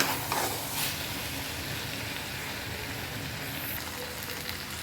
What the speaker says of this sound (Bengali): মাংসটা আমি ভালোভাবে কষিয়ে নিচ্ছি।